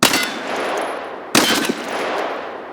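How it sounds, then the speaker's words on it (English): Gunfire in a small room in Escape from Tarkov: a loud sustained burst of rapid shots, a brief pause, then a second burst with a sharp onset, dense and continuous with no talking. "Here's Gunfire in a small room."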